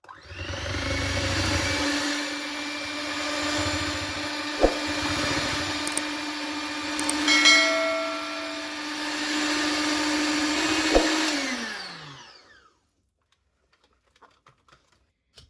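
An electric hand mixer whirs steadily through cake batter with milk and vanilla powder for about twelve seconds, a loud continuous motor drone with a few clicks, then stops and leaves near silence.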